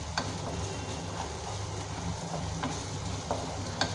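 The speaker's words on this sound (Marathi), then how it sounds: "आपण आता अद्रक लसूणची पेस्ट टाकले, ते थोडं ह्याच्यामध्ये चांगली भाजून घ्यायची" Ginger-garlic paste frying with onion in a pan for a soya chunk curry, giving a steady low sizzle with light stirring scrapes and a few soft ticks, close and fairly quiet, with no talking.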